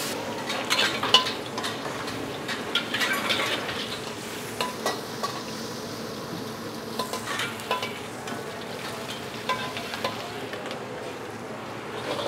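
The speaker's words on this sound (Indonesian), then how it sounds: "Gua ngerjain nasi goreng maut 3 porsi ya." Nasi goreng maut, fried rice mixed with noodles, is stir-fried in a restaurant kitchen, making a steady sizzling hiss under repeated light metallic scrapes and clinks of a spatula.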